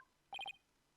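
A quick burst of three identical electronic phone beeps in rapid succession, faint and short, against near silence, in the video game Ace Attorney Spirit of Justice.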